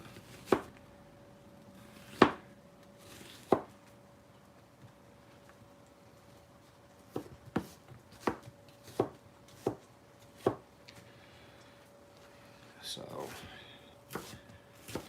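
A knife chops an onion on a cutting board in sharp, isolated knocks at first, then a quicker run of evenly spaced cuts, close and fairly quiet with no talking over them.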